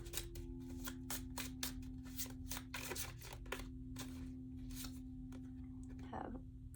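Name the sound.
shuffling oracle cards for a tarot reading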